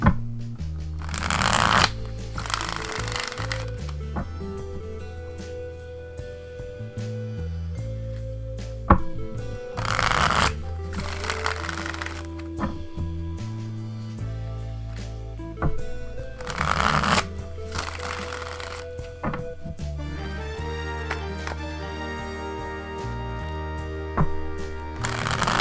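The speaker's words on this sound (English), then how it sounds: "Let us cut the deck." A deck of tarot cards being shuffled close up, with repeated riffling bursts separated by pauses and quieter handling in between, no talking.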